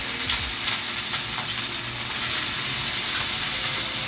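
Potatoes frying in a pan give off a loud, dense, unbroken sizzle with a hissing edge that holds steady for a few seconds, with no talk.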